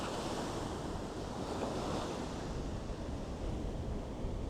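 Steady, loud roar of Pacific coast ocean surf with wind buffeting the microphone, a continuous wash of breaking waves with no voices.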